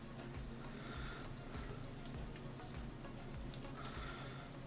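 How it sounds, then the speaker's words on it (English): Chicken pieces with green garlic fry in oil that comes halfway up each piece, giving a steady, close sizzle with soft, regular thumps underneath. "So all I'm doing is frying these."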